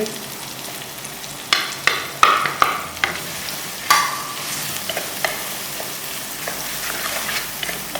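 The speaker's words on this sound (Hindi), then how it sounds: "अब इसके अंदर हम अपने मसाले डाल देंगे" Potatoes sizzle in a hot pan while a spoon stirs in spices, with sharp clinks and scrapes against the pan over a steady frying hiss, close by and without talk.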